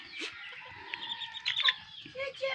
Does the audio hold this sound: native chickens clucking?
yes